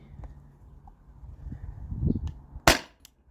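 A Salt Supply S2 air gun fires a heavy pellet as a single sharp, loud crack near the end, after a stretch of quiet handling noise and faint rumble.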